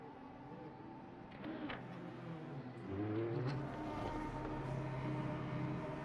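A Porsche race car in the Le Mans Ultimate sim approaches near pit entry, its engine note swelling and rising in pitch as it draws closer, fairly faint and alone.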